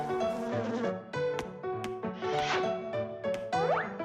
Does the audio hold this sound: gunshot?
no